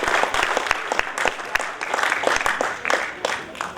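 Lively applause at a kavi sammelan, a Hindi poetry gathering, as a singer is called up, close, uneven clapping with some sharp individual claps standing out.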